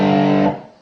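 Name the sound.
electric guitar through distortion pedal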